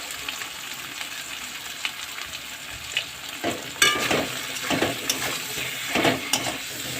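Turmeric is stirred into pomfret frying in oil with bitter gourd and potato, giving a low steady sizzle broken by a few louder scrapes and clinks of a spatula against the pan, with no voices.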